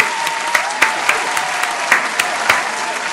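A sharp clap sound in a song repeats at an uneven, roughly half-second rhythm, each hit crisp and prominent over a bright, dense music bed with no voice on top.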